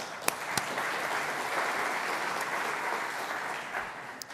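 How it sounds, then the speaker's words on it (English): Conference audience applause for a speaker, a dense even roar of many hands clapping with a few sharper individual claps standing out near the start and end, and no talk over it. "How about a round of applause for Buharato"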